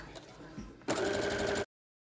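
A sewing machine stitching back over a seam to reinforce the corner of a skirt pocket, a loud close burst of less than a second that stops abruptly, following a moment of quiet handling.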